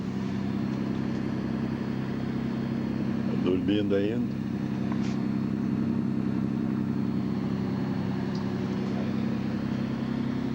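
A motorboat engine drones steadily and evenly at a moderate distance at dawn on a river near a floating dock. A person speaks briefly over the hum.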